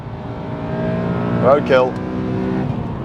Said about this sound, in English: the fantastic induction VTEC